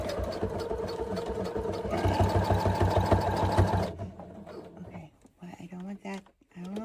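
A sewing machine stitching a straight seam on a tote bag, its needle chattering in a fast, steady rhythm that speeds up midway and then stops, while a person speaks quietly over it and after it.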